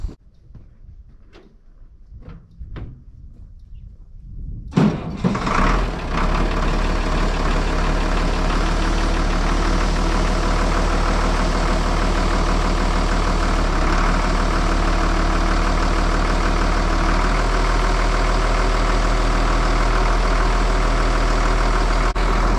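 A cold tractor diesel engine, with a block heater plugged in beforehand, cranks briefly after a few faint clicks, then catches and settles into a loud, steady, rumbling idle that runs on close by.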